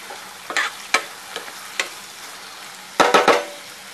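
A spice mix with turmeric stirred into moong birda in a pan: several short scraping, sizzling stirs spaced out, then a quick cluster of strokes near the end, close and moderately loud with no talk.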